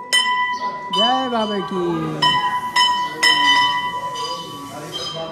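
Temple bell struck several times inside the Baba Shri Chand Mandir in Pakistan, bright metallic rings with long sustained tones, close and loud, while someone talks over the ringing.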